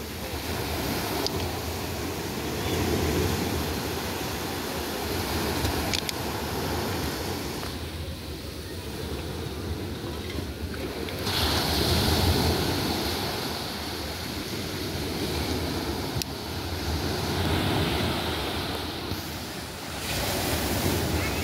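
Ocean waves washing onto the Andaman shore in the evening, a continuous rushing surf that swells and ebbs in slow surges, with wind buffeting the microphone.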